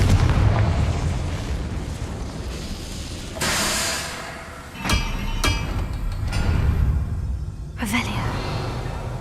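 Blasting spell explosions from Hogwarts Legacy, several heavy booms and bursts over a busy game soundscape with music and voices underneath.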